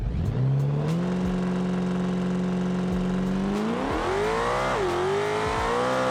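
Swapped car engine in a racing game, holding a loud steady high-revving drone at the drag strip line, then surging upward in pitch as the car launches, with a brief dip and climb again.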